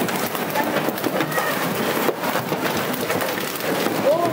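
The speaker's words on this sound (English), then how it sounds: "a man records his windows being smashed by hail in South Africa" A hailstorm in South Africa pounds down hard and continuously, with dense hammering impacts against windows and surfaces, loud and close throughout.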